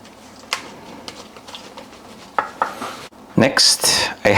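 Ingredients for a buttermilk fried chicken marinade being mixed in a bowl, with a utensil clinking and tapping against the sides in irregular knocks, some scraping, and a louder burst of clatter at the end.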